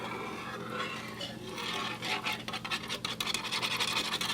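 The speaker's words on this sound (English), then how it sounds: "Just keep stirring because, like in Bridget Jones' Diary, no one likes a lumpy gravy" A spoon scrapes and stirs Salisbury steak gravy with mushroom and onion in a pot, a soft, continuous scratching that grows busier and more rhythmic toward the end, heard alone and close.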